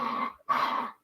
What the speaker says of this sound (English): What am I hearing in the background that's fighting? That's the devil dog.